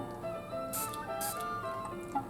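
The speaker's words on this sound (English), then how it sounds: "You can also use an antibacterial aroma spray" Two short bursts of antibacterial aroma spray onto a mask, close by, separated by a brief pause over a quiet room.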